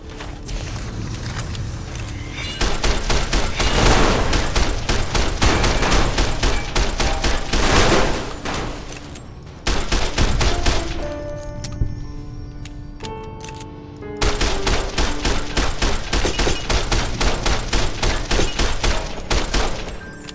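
Loud, sustained automatic gunfire in Fallout New Vegas, long rattling bursts broken by short pauses around ten and fourteen seconds, with no voices over it.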